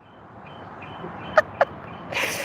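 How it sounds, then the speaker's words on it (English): Two short bird calls ring out in quick succession over a quiet outdoor hush, followed by a brief rush of noise. "You hear that bird?"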